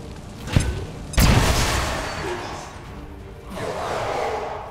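A grenade explosion in XCOM 2 sounds as a short sharp crack followed by a loud, close boom that rolls and decays into rumbling debris, with a later swell of lingering noise.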